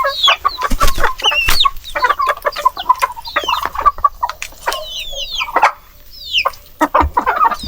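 Heritage chickens clucking near a hen brooding about fifteen eggs on a farm, with dense, loud, close overlapping clucks and squawks continuing throughout.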